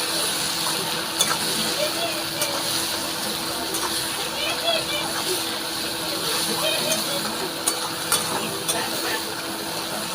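Chopped tomato is stirred into a hot pan for a fish-bone curry, making a steady sizzle with scattered scrapes and light knocks from the spoon, while someone talks over the cooking.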